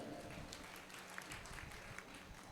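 An audience at an open-air poetry recital during a fair bursts into loud, dense applause that runs unbroken through the short stretch, heard through a muddy, distorted sound system.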